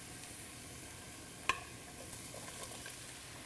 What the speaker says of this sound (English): Now we're going to add our mushrooms